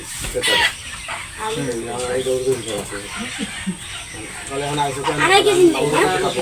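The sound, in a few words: chickens clucking at a market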